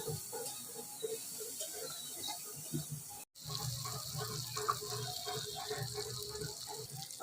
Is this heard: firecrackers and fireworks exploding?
no